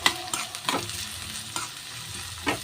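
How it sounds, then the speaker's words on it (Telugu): Soaked chana dal stirred into frying onions in a pan, a steady sizzle under several scraping strokes of the spoon, close and moderate. "ఇప్పుడు నానబెట్టి పెట్టుకున్న పచ్చిశనగపప్పు ఇందులో వేసుకోవాలి. వేసుకొని కలుపుకోవాలి."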